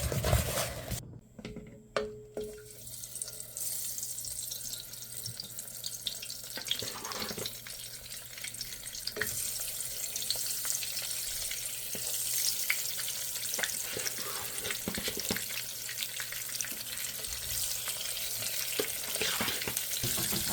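Oil fries ingredients for an egg and eggplant korma, a steady close sizzle with some stirring and clatter and no speech.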